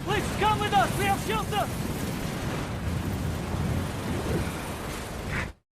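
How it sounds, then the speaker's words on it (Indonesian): Thunderstorm in a forest from a film, with steady heavy rain and a deep rolling rumble of thunder throughout, while a voice speaks briefly at the start before the sound cuts off abruptly. "Di dalam hutan, Janus dan para tahanan menumpuk ranting untuk berlindung dari badai."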